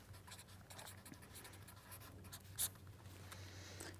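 A pen or chalk scratches steadily across a board during a lecture, writing out a remark by hand in a quiet room, with one brief sharper tap partway through and no talking.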